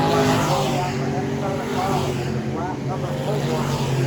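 E-mod race cars at Lakeside Speedway, a dirt oval: a steady, loud engine roar carries throughout, with a race announcer talking over it.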